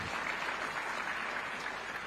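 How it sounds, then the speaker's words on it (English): Steady applause from a crowd, continuous and moderately distant, with no breaks. "You can clap for that."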